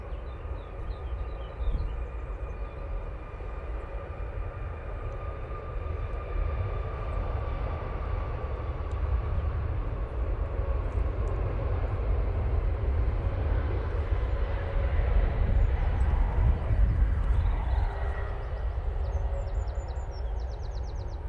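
An SAS airliner at Manchester Airport produces a steady, distant roar of jet engines that swells slightly over about twenty seconds, with faint birdsong in the open-air background.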